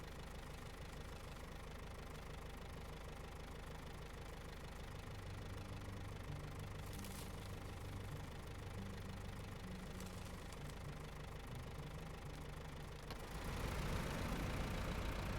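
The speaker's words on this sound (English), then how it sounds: "It's not a very impressive V10 engine." A V10 truck engine in the SnowRunner video game rumbles steadily at a low idle for the whole stretch, swelling louder and rougher near the end as it revs, with no talking over it.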